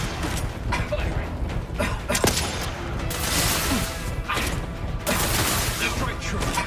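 Gunfire in the video game Outer Worlds 2, dense bursts of shots and impacts running throughout, mixed with a busy combat soundscape and voices calling out.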